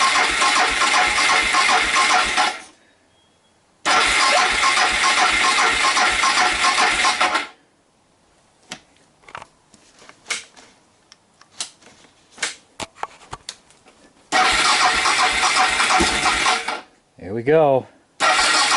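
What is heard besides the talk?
motorcycle engine cranking and starting on lithium battery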